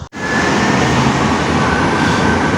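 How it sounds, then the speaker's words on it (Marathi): Continuous loud rumbling roar of a train at North Wembley station in London, steady and close for the whole stretch after a brief initial dip, with no voices. "train station,"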